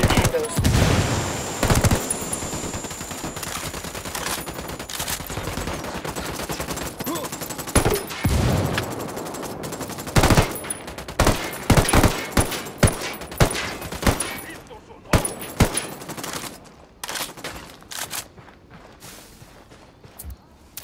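Sustained gunfire in the tactical shooter Ghost Recon Wildlands, with repeated loud, sharp shots and bursts over about twenty seconds that thin into scattered cracks toward the end.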